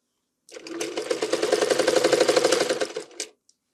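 A sewing machine runs alone for about three seconds, stitching the seam of a baby chest cover in a fast, even whirring chatter that starts and stops cleanly.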